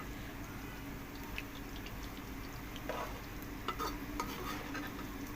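Pakoras for kadhi pakora sizzling in hot oil while being gently turned, a steady low frying hiss with a few faint clicks and scrapes of the spoon, close but quiet.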